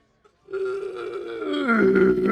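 A long, loud, forced burp rumbles out after a quick gulp of swallowed air, close and drawn out for about two seconds.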